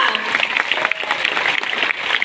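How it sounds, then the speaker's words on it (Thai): An audience at a gathering applauds for Boss Suay, a loud, dense patter of clapping throughout with voices mixed in. "ปรบมือกับบอสสวยเลยค่ะ"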